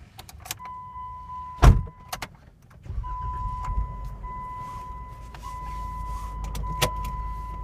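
A 2013 Jeep Wrangler Unlimited with 5.38 gears, E-Tech lockers and upgraded axles rumbles low and steady from inside the cab, with a thin electric whine and a few sharp clunks early on, no voices.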